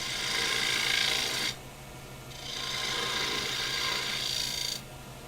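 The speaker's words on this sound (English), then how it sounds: "I do the initial work with the gouge." Woodturning gouge cutting a shallow recess into a pedestal bowl on the lathe, two sustained hissing, scraping cuts separated by a short pause over a low motor hum, close and alone.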